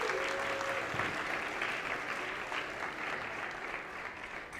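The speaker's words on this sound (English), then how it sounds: "can we give them a round of applause, please?" Wedding guests applaud the newly joined couple during the ceremony, a steady, fairly faint and distant spread of clapping from a gathered crowd that holds evenly and tapers a little at the end.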